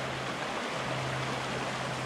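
A mountain creek near a secluded boondocking campsite, close to Silverjack Reservoir, rushes in a steady, dense wash of flowing water that stays loud and unbroken, with no voices.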